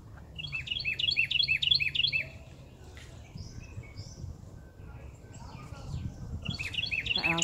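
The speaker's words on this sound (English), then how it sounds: "Listen to the bird. Listen to the bird." Small bird in a home garden sings quick, bright repeated chirping phrases near the start, goes quiet, then starts chirping again at the end over a soft outdoor background.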